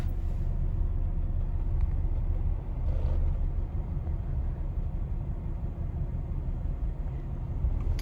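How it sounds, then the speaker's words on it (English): A 1999 Lexus RX 300 idling with a cylinder 6 misfire, a steady low rumble heard close up and alone for several seconds, with a faint uneven character running through it. "So I get the radio, and you can listen to the engine."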